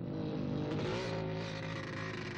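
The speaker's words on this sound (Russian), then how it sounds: "На кольцевой трассе Рижского парка культуры и отдыха проводились международные мотогонки" Racing motorcycles at the 1961 international road race in Mežaparks, Riga, a loud continuous engine roar close by with shifting pitch as machines pass.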